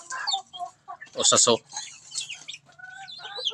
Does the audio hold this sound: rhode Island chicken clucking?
yes